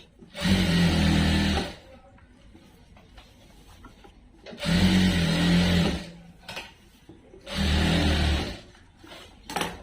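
Sewing machine stitching around the edge of a dress, three loud bursts of fast whirring stitching of about one to two seconds each, separated by quiet pauses.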